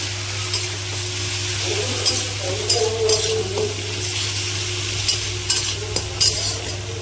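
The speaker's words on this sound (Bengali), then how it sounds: "এটা তো আমি ভিতরে পটলের অংশটা দিয়ে মশলাটা প্রচুর কষাচ্ছি" Ground spices with the scooped-out inner part of parwal (potol) frying for dolma, a steady sizzle with intermittent scraping stirs and a constant low hum beneath, no voices.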